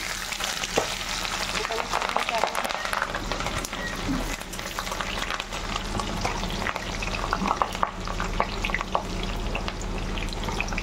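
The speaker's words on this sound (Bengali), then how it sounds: "এবার এখানে আমি একটুখানি পেঁয়াজ দিয়ে দেবো।" Chopped onion fries in hot oil in an iron wok, giving a continuous crackling sizzle with scattered sharp pops and occasional stirring scrapes, heard close throughout.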